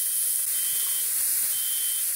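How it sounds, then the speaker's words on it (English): A high, thin electronic beep from a kitchen smoke alarm sounds twice over a constant loud sizzling hiss of frying food. "yeah, that's a smoke alarm."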